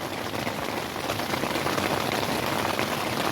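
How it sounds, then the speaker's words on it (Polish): Heavy rain drums steadily on a tent during a thunderstorm at a motorcycle campsite, a dense, even hiss with no voices throughout. "na zewnątrz pewnie co słychać, naparza deszczem jak trzeba"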